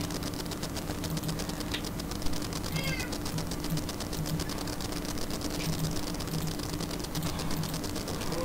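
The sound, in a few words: cat meowing in Minecraft Lucky Block mod video game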